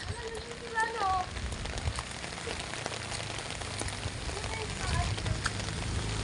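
Rain falls steadily at night in a continuous soft patter, with faint voices and a few brief chirps heard intermittently over the hiss.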